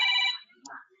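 A telephone ringtone sounds in a short, bright electronic burst at the start, then cuts off and leaves faint murmuring.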